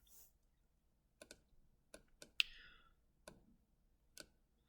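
Quiet, sparse keystrokes on a computer keyboard while entering text into Grasshopper modeling software, several separate clicks and short bursts spread out with pauses between them.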